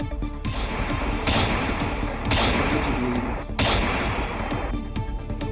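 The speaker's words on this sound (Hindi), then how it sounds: "अंधाधुंध 50 राउंड फायरिंग से हरियाणा का यमुनानगर दहल गया।" About 50 rounds fired by a masked gunman on a motorbike outside a gym in Yamunanagar, Haryana. Loud, harsh bursts of gunfire repeat in several clusters over a continuous rough background.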